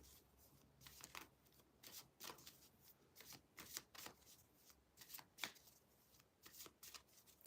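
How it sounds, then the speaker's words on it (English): Playing cards shuffled in repeated quick riffling bursts, soft and close, with brief pauses between each shuffle. "And I take a while to shuffle, so bear with me."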